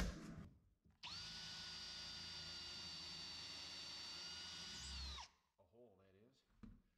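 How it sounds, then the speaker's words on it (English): A power drill bores a hole in a cabinet, whining steadily at high speed for about four seconds, close and loud, then stops, followed by brief softer tool noises. "So we can drill a hole here."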